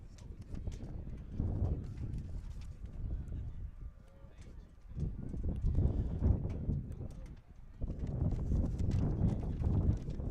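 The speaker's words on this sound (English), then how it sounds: "A lot of wind here." Gusty wind blows across an outdoor track meet, buffeting the microphone in strong rumbling surges that rise and fall over about ten seconds.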